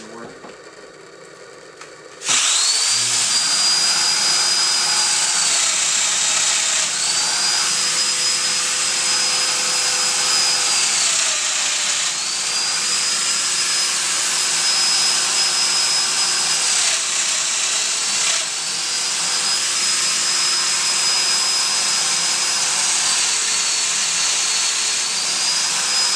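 Festool Domino joiner cutting a mortise in a hall table top, its loud steady motor whine running for about 25 seconds after a sharp start, with the cutter's pitch dipping and recovering in several repeated plunges.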